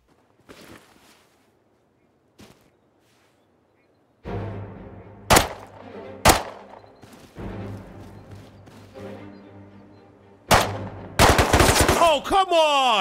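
Gunfire in the survival game Rust: a few faint distant shots, then several sharp loud close cracks spaced seconds apart, ending in a rapid burst of automatic fire.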